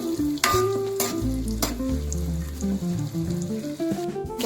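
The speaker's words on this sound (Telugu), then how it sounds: "సో మనం ఇప్పుడు దీన్ని బాగా ఫ్రై చేసుకోవాలి." Biryani ingredients frying and being stirred in a pan, with a steady sizzle and intermittent scraping clatter of the spoon, close and fairly loud, no talking.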